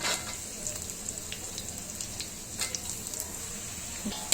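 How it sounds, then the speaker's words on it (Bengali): Carrots frying in a pan for chilli chicken, a steady moderate sizzle with light intermittent stirring clicks and pops, close and with no talking. "গাজরটা আমি দুই মিনিট ভেজে নিয়েছি"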